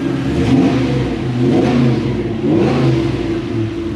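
A Toyota Hiace van with a 1UZ V8 engine revs up and down in repeated surges over a steady rumbling base, loud and close with no talking.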